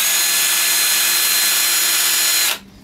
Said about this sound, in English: you can take your drill bit and just ream the hole out a little bit